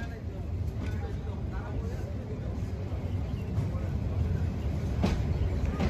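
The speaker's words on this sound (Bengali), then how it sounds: "আর আমাদের আজকের যে লোকোমোটিভ আছে, লোকোমোটিভের ম্যাক্স পাওয়ারই হচ্ছে 1500 হর্স পাওয়ার।" The Saikat Express, running from Chattogram to Cox's Bazar behind a 1500-horsepower locomotive, moves slowly on its inaugural run. It makes a continuous low rumble with faint clacks, and indistinct voices sit underneath.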